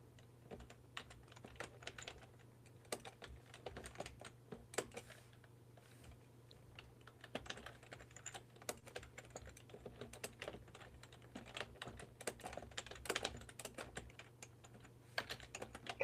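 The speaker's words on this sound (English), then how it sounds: "Kind of hypnotic watching you type" Typing on a computer keyboard, quick, irregular bursts of light key clicks with short pauses between them, close and fairly quiet over a low steady hum, with no talk.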